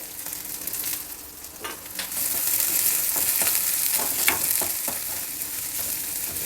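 Mustard seeds, onion, green chillies, ginger and garlic sizzle in hot oil for a village-style tempering, a steady close crackle and hiss with occasional sharp pops and stirring, no voices.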